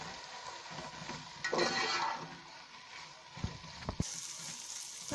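Chicken and peas frying in a pan, a soft sizzle with a brief louder burst of crackling as the pan is stirred, then a few scraping knocks; quiet overall and without talk.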